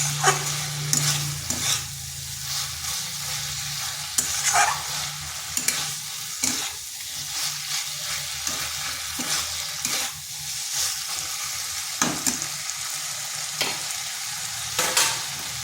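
Potatoes sautéing in a pan over medium-low heat for a vegetarian potato and eggplant bhuna, a steady soft sizzle broken by repeated sharp scrapes and knocks of stirring, close and alone without talk.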